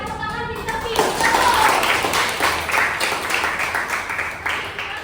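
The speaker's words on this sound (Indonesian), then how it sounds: "Tepuk tangan pintar-pintar." A school class claps hands together in praise during a religion lesson, a dense burst of clapping that swells and then tapers, with voices mixed in.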